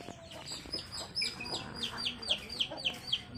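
Peking ducks in pens beside a house call out in a rapid series of sharp, fairly close quacks, about a dozen rising in intensity, over faint background noise.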